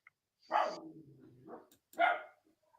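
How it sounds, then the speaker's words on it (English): A dog barks in the background during a football podcast, giving two or three close, moderately loud barks with a pause between them and no talk over them. "we've got a dog there in the background"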